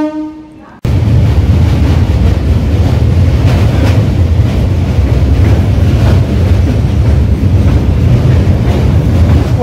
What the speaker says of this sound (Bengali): তো নৈহাটি জংশন স্টেশনের প্ল্যাটফর্মে ঢুকছে ট্রেনটি।